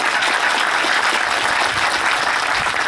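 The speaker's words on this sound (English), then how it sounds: "Let's give them a round of applause." Loud, steady audience applause at a city event honoring an economic development council team, a dense wash of clapping that fills the whole stretch without pause.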